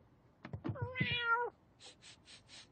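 A pet cat meows once, a drawn-out, rising and falling cry close to the microphone, followed by a few soft rustling sounds.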